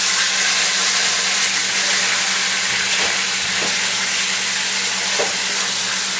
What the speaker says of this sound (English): So we're just going to pressure down that meat. As you can see, it's getting all of it seared nicely.